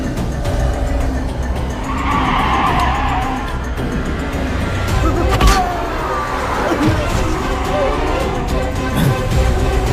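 A car in a Hindi film scene skids to a stop, its tires screeching loudly in a drawn-out squeal amid busy soundtrack noise.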